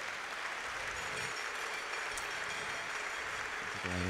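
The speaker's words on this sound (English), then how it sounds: "let's give those fans and supporters a round of applause." A crowd at a college athletics championship applauds fans and supporters, a broad, even wash of clapping heard from a distance that holds steady throughout with a low rumble underneath.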